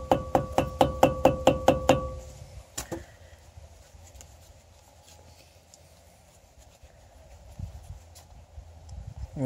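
Sharp hammer taps on a Volkswagen 2.5L front brake rotor, about eight quick, evenly spaced metallic strikes up close, then a single louder knock and quiet shop ambience.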